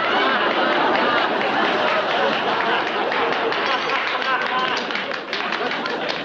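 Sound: audience applauding award nominees

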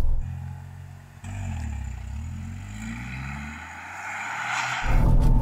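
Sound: Dacia Jogger car driving through a slalom course

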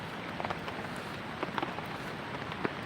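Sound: heavy rain falling by Vamanapuram river

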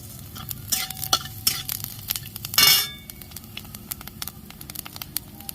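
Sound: ginger and fennel seeds frying in a pan

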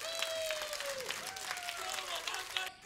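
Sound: audience applause at a live concert

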